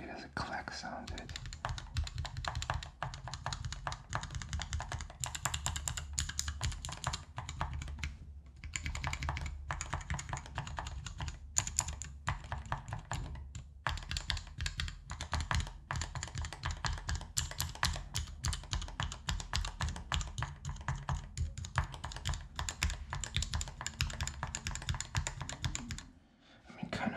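Fingers type steadily and quickly on a mechanical keyboard with clacky keycaps, giving a dense run of close, crisp key clicks that lasts almost the whole stretch, with a whispering voice over it and a few brief pauses.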